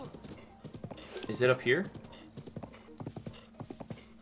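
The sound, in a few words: horse hooves clip-clopping in the video game Zelda Breath of the Wild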